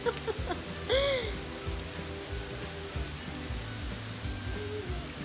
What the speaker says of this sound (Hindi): हद से ज़्यादा बारिश हो रही है